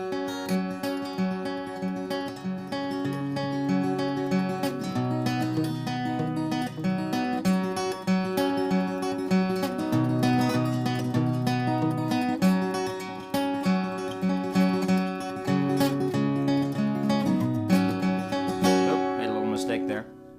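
Hybrid-picked acoustic guitar plays a song in a steady, close fingerpicking pattern with ringing bass notes and plucked treble strings, continuous for about twenty seconds.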